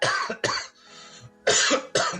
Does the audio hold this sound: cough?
yes